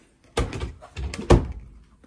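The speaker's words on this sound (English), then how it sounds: "Northwoods solid doors." Solid interior door on a 2022 Northwoods Arctic Fox 275L travel trailer swinging and closing, giving a few close thuds and a firm latching thunk with no talk.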